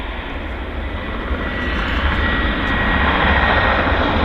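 An Air Canada Boeing 737 MAX arriving on runway 08 at Vancouver airport, a loud, steady jet engine roar with broad rushing noise that builds slightly as the airliner rolls out, no voices.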